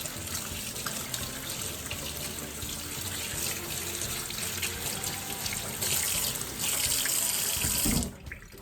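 Tap water runs steadily into a sink while homemade butter is rinsed, a continuous close splashing rush that swells slightly near the end before the flow cuts off abruptly.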